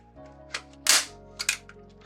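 A stapler drives a staple through a pipe cleaner. A few sharp clacks stand close and distinct, the loudest near the middle, with brief silence between them.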